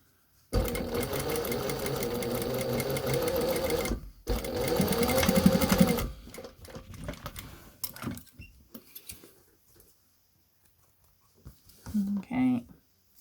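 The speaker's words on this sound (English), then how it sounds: "that's where we're going to do our edge stitch, go backwards and forwards on the lock stitch" A lock stitch sewing machine runs edge stitching along a fabric face covering with a filter pocket, two steady bursts of close, rapid needle clatter split by a brief pause, then quieter handling and a short voice near the end.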